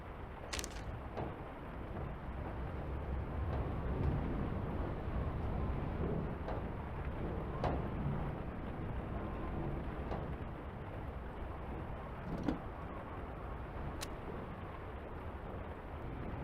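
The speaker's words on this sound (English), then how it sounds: "In the valley the storm rages. With all this wind, howling wind and pounding rain, how can I concentrate?" A storm in the video game The Lion's Song, with howling wind and pounding rain: a dense, constant roar of rain and wind holding steady throughout, broken by a few faint sharp crackles.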